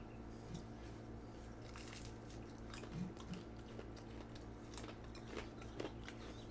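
Soft, close crunching bites and chewing of fry bread made in an air fryer, a few crisp snaps scattered over a quiet background hum.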